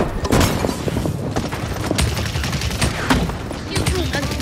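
Rapid automatic gunfire and shooting effects from the Paladins video game crackle continuously with dense bursts and thuds, loud and busy throughout, with a voice speaking over the action.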